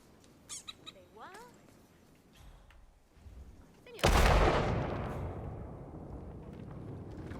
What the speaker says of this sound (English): The other way to mimic a three-bullet distraction is with an explosion.